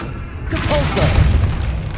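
A Depulso spell goes off in Hogwarts Legacy inside a tomb, a sudden loud magical boom and burst that trails into rumbling debris.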